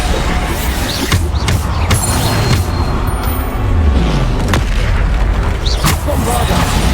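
Bombarda blasting spells explode in Hogwarts Legacy amid constant loud combat noise: deep booms and creaking rumbles layered with bursts and pops, all close and dense.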